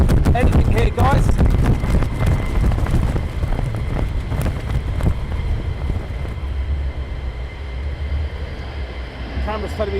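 Strong wind buffets the microphone at RAF Lakenheath airfield, a loud, steady low rumble that roars without a break for the whole stretch, with faint higher hiss riding over it.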